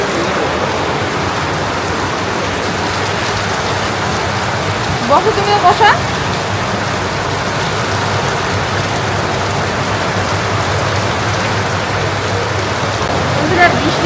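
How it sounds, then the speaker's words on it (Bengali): Rain falls steadily outside a village shop, a loud, even wash of hiss that never lets up, while a person speaks a few short words partway through. "এখানে বৃষ্টি আসতেছে"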